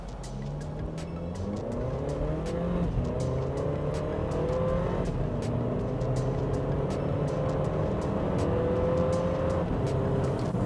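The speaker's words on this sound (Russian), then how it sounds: "давайте посмотрим, насколько быстро он сможет разогнаться от 0 до 100 км в час" A 2021 Haval F7X in sport mode accelerates hard from 0 to 100 km/h on a track. The engine note climbs steadily through several gear shifts, with road and tire noise heard from inside the cabin.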